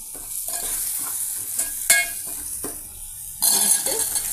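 Cut arvi (taro root) being added to onions frying with salt, turmeric and chili, a steady sizzle with close scraping stirs and utensil clinks against the pan, then a louder burst of frying.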